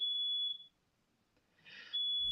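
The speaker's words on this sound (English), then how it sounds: "So your smoke alarm?" A household smoke alarm emits two sharp, high electronic beeps separated by a short quiet gap, faint and distant with nobody talking.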